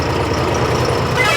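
A John Deere tractor engine runs steadily with a low, rumbling idle and a dense, even drone throughout, loud and close, with no voices.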